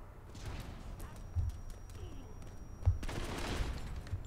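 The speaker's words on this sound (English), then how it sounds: "I hear someone shooting somewhere." Distant gunfire in the mobile shooter Modern Combat 5: Blackout, faint crackling bursts of automatic fire in the background that swell toward the end, with quiet game ambience and a few soft thumps.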